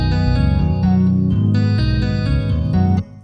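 A trap beat melody made in FL Studio, played dry without saturation processing: layered synth tones repeat in a steady, loud pattern with rhythmic accents, then cut off abruptly near the end.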